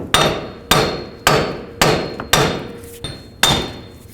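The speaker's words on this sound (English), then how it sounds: "just take a hammer and from the back side, give it a bunch of taps" Six sharp metallic hammer blows on the back of a 2005-2015 Nissan Xterra wheel hub, evenly spaced about half a second apart, each ringing briefly before the next, close and loud with no talking.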